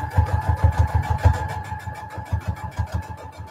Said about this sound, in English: I'm just using a straight stitch down one side